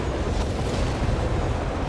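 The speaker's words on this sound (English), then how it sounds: "Need of a barrage as Izzy turns to some rocket artillery here" Rocket artillery barrage in the real-time strategy game Company of Heroes 3, a dense, continuous rumble of blasts and booms at steady loudness with no clear breaks.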